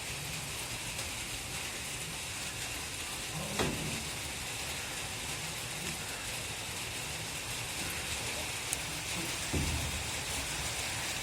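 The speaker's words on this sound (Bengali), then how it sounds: "ঝিম ঝিম ঝিম ঝিম টিপ টিপ টিপ টিপ করে এখন বৃষ্টি পড়তেই থাকবে।" Steady rain falls on trees and surfaces, a continuous broad hiss with a couple of faint low thumps, heard alone without any voices.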